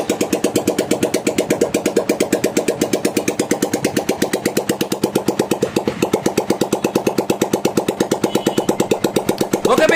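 A motorcycle engine freshly given a full rebuild runs steadily at idle, its rapid, even exhaust beat pulsing close and loud throughout with no voices over it.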